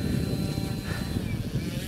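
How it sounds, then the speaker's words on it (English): An electric Hangar 9 Ultra Stick RC airplane on 6S power flies past, its motor giving a steady, moderately loud whine that shifts slightly in pitch, heard alone without talk. "Hangar 9 ultra stick, electric, 6S power."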